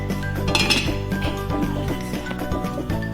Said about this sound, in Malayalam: ഇതിന്റെ മുകളിൽ നമ്മുടെ ബാറ്റർ വെച്ച് പാത്രം വെക്കാം. എന്നിട്ട് നമുക്കിത് മൂടി വെക്കാം